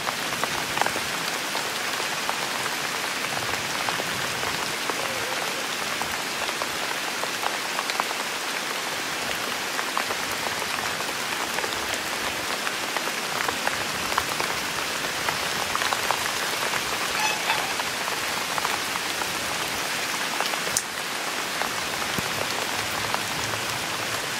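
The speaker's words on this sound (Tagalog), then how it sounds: "Lumakas na ang ulan." Heavy rain pours steadily on a dragon fruit farm in Indang, Cavite, a dense, even hiss of drops hitting surfaces that continues without pause.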